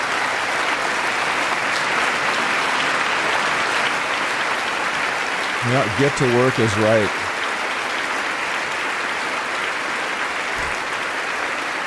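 Applause fills the chamber during a State of the Union address, a broad steady clapping roar that runs through the whole stretch while a nearby voice speaks briefly over it.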